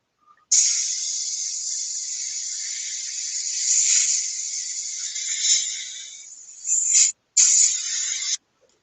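An airbrush fitted with a MAC valve sprays a steady, bright hiss of air that holds for several seconds, swelling and dipping slightly, then breaks off briefly and resumes before stopping.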